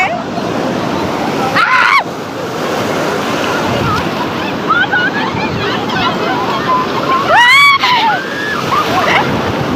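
Sea waves break and wash ashore at Puri beach, a steady loud roar of surf with wind buffeting the microphone, while voices call out over it at a few moments.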